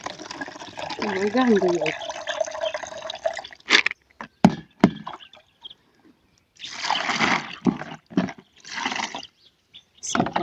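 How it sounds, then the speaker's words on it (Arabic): Water is collected and poured out to water basil plants, a splashing, gushing pour in the latter half after a person speaks over quieter trickling sounds. "نجمع الماء هنايا كنسقي به"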